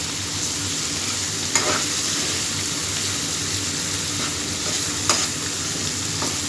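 Bay leaves fry in oil for a Hyderabadi mutton dum biryani, a continuous close sizzle broken by two or three brief clinking stirs, with no one speaking.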